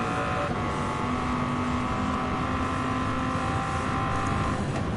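A yellow 2013 Dodge Viper GTS races in Gran Turismo 7, its engine a constant loud, close drone that holds a steady pitch through the whole stretch, with no voices.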